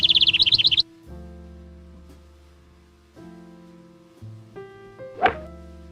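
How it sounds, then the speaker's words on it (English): A bird sound effect opens with a quick burst of high, rapid chirps, followed by a few low thuds and knocks and one more sharp, squeaky chirp near the end. "Bird."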